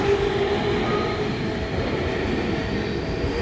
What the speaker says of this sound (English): No matter where you walk, you'll always find a train passing by.